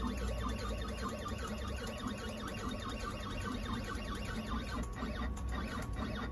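A CNC router fitted with a cheap homemade dust shoe steps downward, giving a steady, close mechanical whine with a faint pulsing, ticking texture throughout and no voices.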